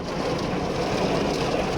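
Heavy rain pouring steadily outside a church that holds Sunday evening Mass on a court in Metro South, a dense, even hiss with no pauses and no voices.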